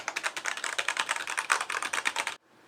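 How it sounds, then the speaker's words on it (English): Rapid, crisp keystrokes clack on a mechanical keyboard in a quick continuous run, then stop abruptly into quiet. "I'll just do a little more sound comparison between the two keyboards"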